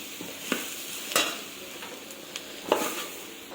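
Brinjal, onion, potato and tomato frying together for sambar: a soft sizzle under a few sharp scraping stirs of a spatula against the pan, close by, without talk.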